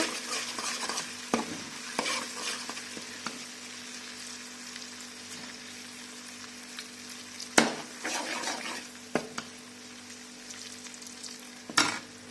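Homemade ghee sizzles steadily in a pan on a gas stove before straining, a continuous close crackling hiss broken by a few sharp scrapes and clinks of a spoon against the pan.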